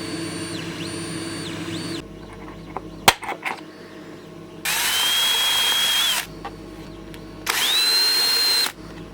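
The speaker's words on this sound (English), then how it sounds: "Just countersinking that hole so that when I put the wood screw into the base it doesn't all scuff up" A power drill countersinks a hole in wood in short bursts: a whirring run, a pause with a few knocks, then two more loud, steady spins close by, separated by quiet gaps.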